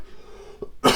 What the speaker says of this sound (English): Forgive me for all the coughing.